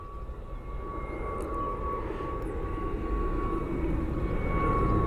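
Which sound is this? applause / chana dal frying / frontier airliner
frontier airliner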